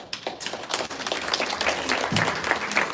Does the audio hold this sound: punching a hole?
no